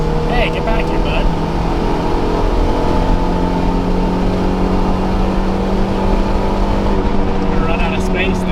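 Small Volkswagen car driving nearby, a steady loud engine drone with sustained tonal hum and road roar held throughout, mixed with a busy background, and no clear pauses in the noise.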